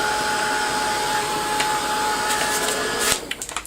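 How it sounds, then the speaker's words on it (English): A heat gun dries a freshly worked surface, blowing a steady whining hiss with a bright tonal hum for about three seconds, then cutting off into a few sharp clicks and taps. "heat gun."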